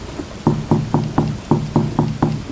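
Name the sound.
knocking on a door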